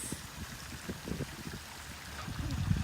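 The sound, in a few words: backyard pond waterfall at night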